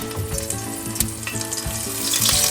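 Onion paste fries in hot mustard oil in a home kitchen, producing a loud, continuous crackling sizzle with occasional utensil knocks, growing slightly louder toward the end.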